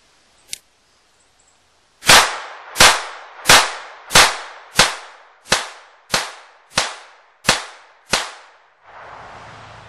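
.22 Long Rifle rounds strike a steel-reinforced door: one faint snap, a pause, then about ten sharp, loud cracks fired at a steady, rapid rhythm, each with a short ringing tail.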